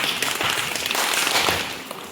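A group claps a rain-imitating clap indoors at a library event, a dense, even patter of many hands sounding like steady rainfall, fairly loud and continuous for two seconds.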